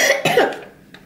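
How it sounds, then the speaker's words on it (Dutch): A young boy gives a short, loud cough burst close by, followed by a quieter second cough. "Hij kan heel goed hoesten ook."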